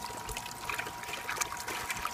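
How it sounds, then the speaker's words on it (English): Water circulating and trickling inside an aerated compost tea brewer, air pushing it up from the bottom and back over a bag of worm castings; a steady close bubbling dribble runs throughout with no talk. "the air is pushing the water up through the bottom and returning it back into the middle where the tea bag is of worm castings"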